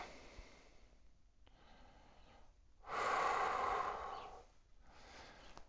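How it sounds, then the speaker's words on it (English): Slow, deep breathing during a hamstring stretch: a quiet breath, a pause, then a long, louder exhale of about a second and a faint breath after it, close and with no speech. "really inhale, exhale"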